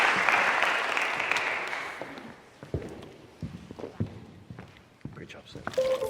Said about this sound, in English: Another round of applause for Dr. Simon